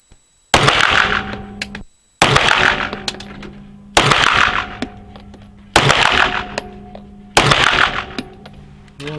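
Five bursts of pistol gunshots crack at an indoor shooting range with a five-meter target, each a rapid loud volley followed by a short gap, with no voices.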